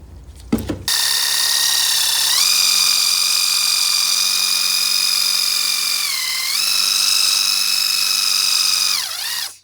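Paint being blasted off a vintage Moto Guzzi Le Mans Mk1 motorcycle frame, a loud, continuous whining drone with strong tonal overtones that dips briefly in pitch a couple of times before stopping.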